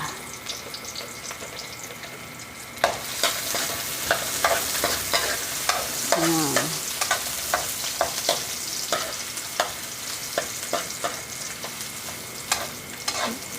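Ginger stir-fried in a pan for tinolang manok chicken soup: a steady close sizzle broken by repeated scraping and clacking of a utensil against the pan, with no talking.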